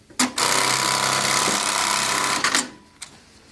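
Industrial sewing machine with a Velcro feeder stitching a piece held in a nest, a loud, rapid mechanical clatter running steadily for about two seconds, bracketed by short clunks as it starts and stops.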